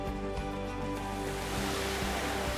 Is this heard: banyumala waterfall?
yes